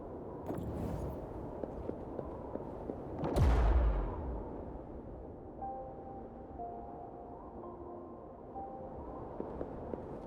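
A single heavy blast from tacitite fulminate, detonated in Wuthering Waves to breach an opening, booms out midway with a deep rumbling tail that fades into quiet ambient tones.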